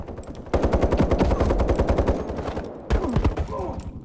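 Rapid automatic gunfire in the online shooter Ironsights, loud and close: one long burst of evenly spaced shots, a brief pause, then a second burst, with a player's voice talking briefly over the end.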